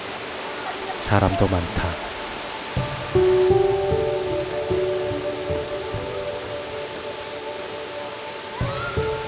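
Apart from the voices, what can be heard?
waterfall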